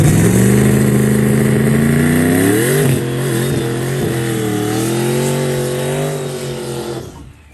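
A race vehicle fitted with wheelie control makes a pass down a drag strip during a mid-track racing event, its engine roaring loud and close, rising in pitch through several gear changes before fading out at the end.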